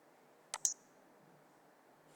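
Sharp mouse clicks on a computer while running Python code: two quick clicks close together, then a single click after a pause, each crisp and isolated against a quiet room.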